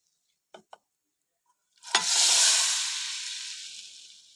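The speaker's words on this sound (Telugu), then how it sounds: "ఇప్పుడు పోపు అనేది ఇందులో వేసుకుందాం." Tempering (popu) hits tomato dal with a sharp crackle after two small clicks, then a loud hissing sizzle that slowly fades.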